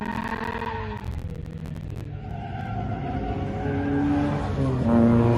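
A track car heads out onto Apple Valley Speedway, a small, tight go-kart course, its engine note climbing and droning louder as it pulls away, with faint talk early on.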